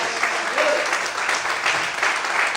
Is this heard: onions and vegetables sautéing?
no